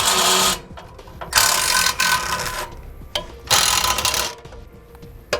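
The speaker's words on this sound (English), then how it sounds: "once we get all of our screws out, we'll be able to get this old one out of the way." Screws backed out of an old trailer scissor jack with a ratcheting tool, heard as repeated loud bursts of rapid ratchet clicking separated by short pauses, with no talk.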